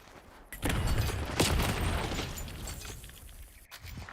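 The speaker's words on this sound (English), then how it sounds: "Grenade coming in." A grenade goes off in a video game as a loud, broad burst with a sharp blast near the midpoint, followed by several seconds of rumbling, crackling debris that slowly fades.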